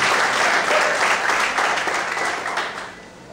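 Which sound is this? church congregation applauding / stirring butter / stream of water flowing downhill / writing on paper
church congregation applauding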